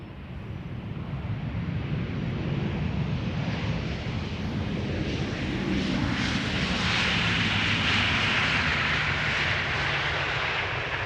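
An arriving airliner at Amsterdam Schiphol Airport roars loud and close, its jet engine noise building and holding as a broad, rushing rumble with some wind buffeting, and no talking.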